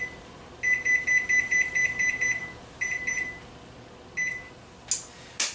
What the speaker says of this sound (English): I'm going to go ahead and set my timer here.